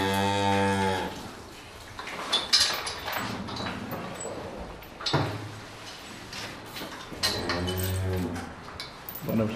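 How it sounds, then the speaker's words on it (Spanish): Cattle on a farm moo loudly while waiting for feed, with several long calls at the start, in the middle and near the end. Clatter and shuffling fill the gaps between them. "tenemos las vacas como miran hacia el pienso, como le esperan"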